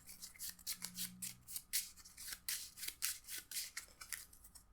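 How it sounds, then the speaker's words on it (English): A deck of cards for the Marvel Champions card game is shuffled by hand, giving a quick run of crisp riffling and rubbing bursts that repeat steadily for several seconds, close and fairly quiet, with no talking. "I'm just going to shuffle my deck"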